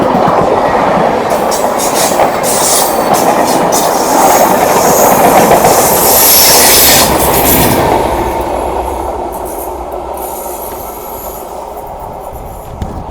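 The LTT Ernakulam Duronto Express thunders past nearby at Koratti Angadi, its wheels roaring and clattering over the rail joints with a thin squeal, before the noise drops away as the last coaches pass.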